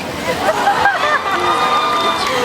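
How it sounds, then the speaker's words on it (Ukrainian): Crowd at a youth day celebration clapping and cheering for a participant, a dense near burst of applause with whoops and chatter mixed in. "Аплодисменти второму учаснику"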